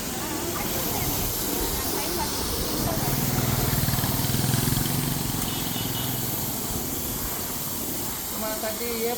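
A fire extinguisher sprays during a fire safety demonstration at a hospital, a steady, loud broadband hiss that swells briefly in the middle, with voices faintly underneath.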